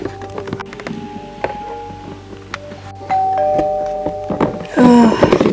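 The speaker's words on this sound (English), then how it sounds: "Doorbell, seriously." A doorbell chimes with a clear ringing tone, then a louder ding-dong near the end, amid light tapping and room noise.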